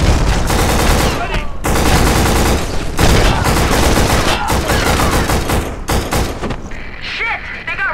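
Heavy, continuous gunfire from a shooter video game, with overlapping rapid automatic bursts and single shots packed tightly together, loud and close, with brief gaps between volleys and game voices mixed in.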